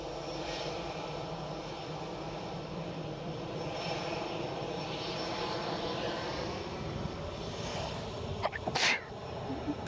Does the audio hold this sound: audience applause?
no